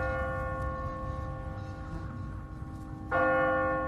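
In The Walking Dead video game, an automatic timer-driven church bell tolls in a city, a sustained ringing hum followed by a fresh, louder strike near the end.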